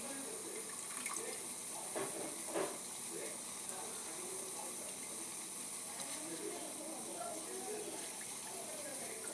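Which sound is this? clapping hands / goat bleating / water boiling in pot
water boiling in pot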